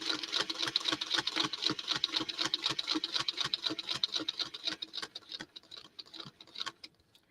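A sewing machine stitching a quilt seam, its needle running in a fast, steady rhythmic chatter up close before slowing and stopping near the end.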